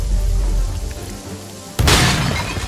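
An explosion in the tactical video game Jagged Alliance 3, a sudden loud burst that cuts through a low rumbling game backdrop near the end.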